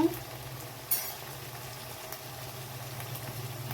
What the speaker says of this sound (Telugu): ఇది కొంచెం నూనెలో బాగా వేయించుకుందామండి